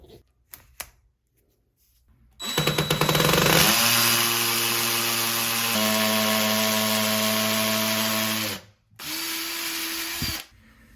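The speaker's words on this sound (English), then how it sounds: "Now when you're drilling, you want to use the hammer mode" A loud hammer drill in hammer mode whirs steadily for several seconds drilling into a concrete floor, briefly stops, then runs again at a lower pitch, with no voices.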